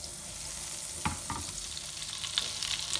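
Soft, steady sizzling of butter melting with a little oil in a hot frying pan, with a few light scraping clicks of a utensil stirring now and then.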